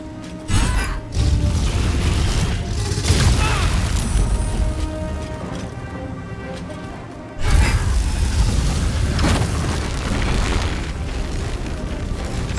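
A Nova spell explosion in Baldur's Gate 3, during the Wyrmway fight in the Dragon's Sanctum: a loud, sustained booming roar that drops briefly, then bursts in again with a second heavy surge that rumbles on to the end.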